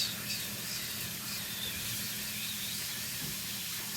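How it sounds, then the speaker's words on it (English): Chicken pieces for salsa chicken sizzle steadily in a hot pan, a continuous close hiss with no talking. "Chicken, sizzle away."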